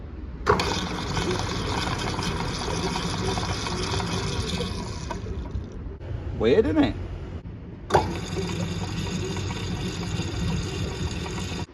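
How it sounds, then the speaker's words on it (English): A conveyor's oil pump motor runs with a steady churning, bubbling liquid noise, cuts out briefly while a person speaks, then starts up again; the motor may be running the wrong way. "Hear that bubbling?"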